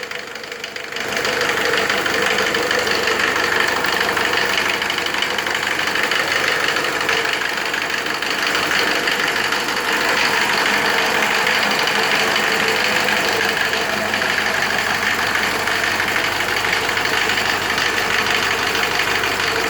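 A Mercedes OM601 2.0-litre diesel engine driving an irrigation water pump runs steadily with a knocking, rumbling idle, close and loud, continuing without pause after a brief quiet start.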